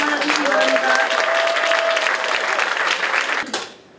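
Audience at a school education event applauds to welcome a middle school band, a loud dense burst of clapping that holds steady for about three and a half seconds before fading quickly.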